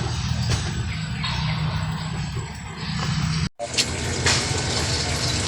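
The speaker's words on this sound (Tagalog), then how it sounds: "apat na malalaking balde ilagyan ko ng tubig para diretso-diretso na yung trabaho ko" Water pours steadily into large buckets, a continuous broadband gush that runs without pause, briefly cut near the end before resuming.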